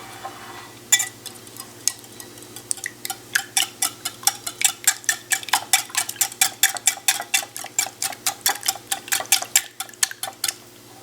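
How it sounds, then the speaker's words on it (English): A whisk beating eggs together in a bowl for a breakfast recipe, a steady run of quick clinking taps against the bowl's side, close and crisp, with no one speaking. "I'm going to whisk my eggs together"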